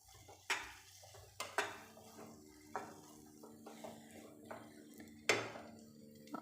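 Semolina upma stirred in a pan: a spoon scrapes and knocks against the metal in irregular sharp clinks, with a faint sizzle underneath and no talk.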